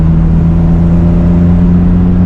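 Steady engine drone from a 1997 BMW M3 with a low mid-range hum and strong tonal band, close and constant for a couple of seconds, no clear rev swell between gears.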